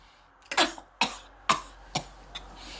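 Five separate coughs in a slow, fairly even series, each sharp and close, with short quiet gaps between them. They come from a person who has just smoked a cigarette.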